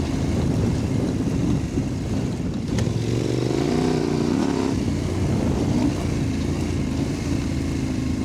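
A CFMOTO 800MTX adventure motorcycle cruises along a country road, its engine a steady, loud drone with gentle pitch shifts and constant wind rush throughout.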